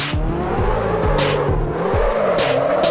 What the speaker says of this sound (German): So, einfach mal eine kleine 8 hier driften.